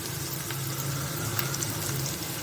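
Onion and garlic fry in a pan as asafoetida is added, giving a steady, soft sizzle with faint crackles and a light stirring scrape.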